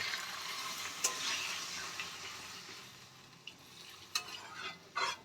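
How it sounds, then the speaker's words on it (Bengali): Water poured into a pan of sizzling fried spice paste for a Bengali katla fish curry with ridge gourd and potato, a soft frying hiss that fades gradually, with a few sharp spits and splashes near the end. "মশলাটা দিয়ে আমাদের কষানো হয়ে গেছে, এবার আমি পরিমাণ মতো জল দিয়ে দেব।"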